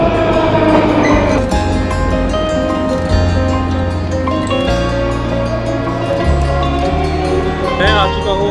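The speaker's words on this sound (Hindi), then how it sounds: "तो अभी ट्रेन आ चुका है यहाँ पे।" A metro train rumbles and hums steadily at the Park Pobedy station platform in Moscow, with voices and station noise layered over the rolling drone.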